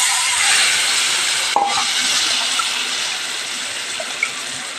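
Dissolved tamarind water is poured into a simmering Chettinad paruppu urundai kuzhambu, a lentil-dumpling curry, making a steady, soft hissing gush, with a brief knock partway through and faint small clinks near the end.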